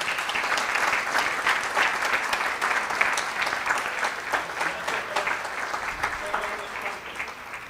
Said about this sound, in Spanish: Muy fuerte el aplauso, por favor.